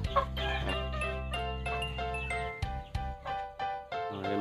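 Free-range backyard hens, a mix of heritage breeds, Hubbard and Rhode Island Red, cluck steadily at close range in a rhythmic, overlapping chorus, with a few sharper calls breaking through toward the end.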